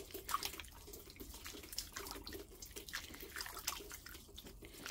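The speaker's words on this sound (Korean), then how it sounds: "이렇게 해서 한번 씻어 보겠습니다" Water running from a tap as the roots of a variegated primrose are rinsed during repotting, a faint steady splash and patter of water with small drips, no talking.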